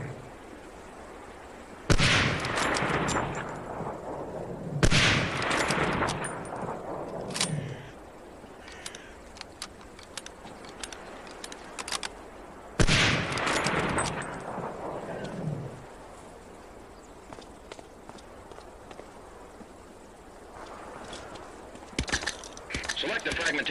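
Springfield '03 sniper rifle firing in Medal of Honor: Allied Assault on PC, three loud sharp cracks spaced a few seconds apart, each with a long rolling echo, followed by quieter mechanical clicks and handling noises.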